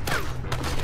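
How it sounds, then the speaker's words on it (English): Shotgun blasts from guards in the Strider video game on Xbox One, a dense burst of overlapping gunfire filling the short moment with loud, sharp reports over game noise. "Oh, and they have shotguns!"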